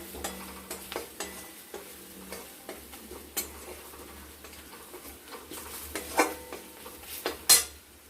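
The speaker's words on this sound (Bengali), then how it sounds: "এবার দিয়ে দিব জিরে গুঁড়ো, ধনে গুঁড়ো, কাশ্মীরি লঙ্কার গুঁড়ো, হলুদ গুঁড়ো দিয়ে এটাকে কষে নেব" Cumin, coriander, Kashmiri chili and turmeric powders fry in a pan under a faint sizzle, with an irregular run of spatula scrapes and clinks against the metal, a louder clatter near the end.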